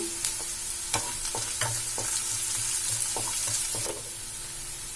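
Chopped ginger and onion sauté in a pan with a steady close sizzle, broken by several sharp scrapes and clinks of a spatula stirring, the frying hiss easing slightly toward the end.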